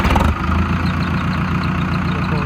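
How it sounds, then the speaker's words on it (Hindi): An Arjun Novo tractor diesel engine with a newly fitted turbo idles close by, a steady low rumble with even rhythmic pulsing and a faint whine above, continuous throughout. "फ़िलहाल की आवाज़ जो है ट्रैक्टर की"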